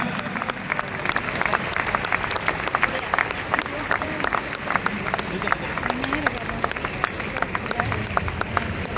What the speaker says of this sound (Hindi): सो एक बार जोरदार तालियों से, जिस तरह की सब भारतीय अंदाज में तालियां बजती हैं।